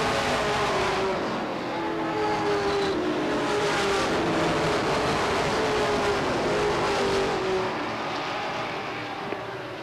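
Stock cars race at Beech Ridge Motor Speedway in a 1993 weekly event, a steady loud roar of several engines with shifting pitch held throughout, no talk.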